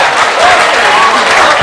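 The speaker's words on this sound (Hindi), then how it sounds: "पुरजोर तालियों से इस्तकबाल करें दोस्तों।" Audience at a poetry mushaira bursts into loud, dense applause, a sustained wash of many hands clapping close by without a break.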